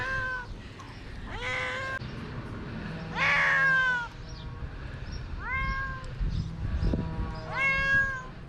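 A cat stuck in a tree meows repeatedly, about six loud plaintive cries spaced a second or so apart, close by with faint background noise between them.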